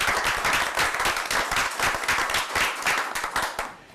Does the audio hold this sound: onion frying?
no